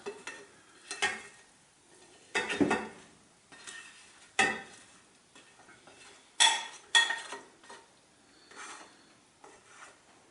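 Cooked onions, celery and herbs for Italian sausage stuffing are scraped from a pan onto breadcrumbs, giving a series of close, brief scraping and rustling bursts with quiet pauses between them.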